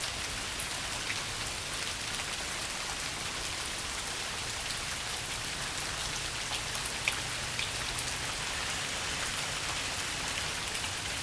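Rain falls steadily outdoors in central Alabama, a constant soft hiss with scattered distinct drops pattering on nearby surfaces, no talking.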